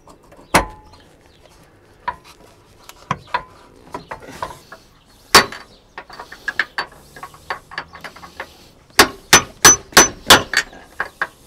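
Metal clanks and ratcheting from removing a shock absorber on a Range Rover L322 4.4 TDV8, sharp close knocks scattered through the clip, ending in a quick run of rhythmic clanks.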